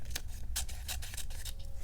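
Victorinox scissors with serrated blades snip through paper in a quick series of crisp, separate cuts, close and fairly quiet, with no voices.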